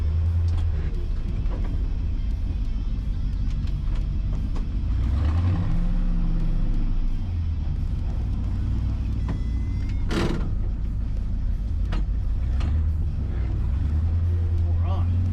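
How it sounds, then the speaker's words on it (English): An International C1600 truck with a slow-revving 345 V8 rumbles steadily while driving, a loud, low engine drone with a brief sharp hiss partway through. A person talks over the engine noise. "The 345 is a very slow revving V8."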